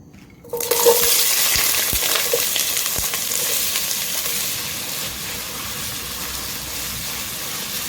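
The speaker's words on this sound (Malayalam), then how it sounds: "ചൂടായ വെളിച്ചെണ്ണയ്ക്ക് നമ്മൾ നേരത്തെ കട്ട് ചെയ്ത് വെച്ചിരിക്കുന്ന നാല് സബോള ഉണ്ടല്ലോ അത് ഇട്ടു കൊടുക്കാം" Sliced onions dropped into hot coconut oil, a sudden loud sizzle that settles into a steady, close hiss with a few small clinks.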